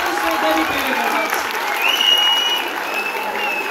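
Sustained audience applause in a live show hall, dense and steady clapping with faint whistles and crowd noise rising slightly midway.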